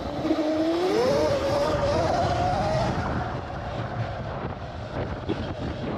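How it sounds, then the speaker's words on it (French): A Sur-Ron Ultra Bee 12 kW electric motorbike starting up: its motor whine rises in pitch over a couple of seconds, then settles into a steadier hum under gusty wind noise. "il démarre la moto"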